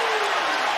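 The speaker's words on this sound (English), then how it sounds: "The crowd is screaming" A basketball arena crowd screams and cheers after a free throw, a loud, dense roar of many voices heard in a brief burst.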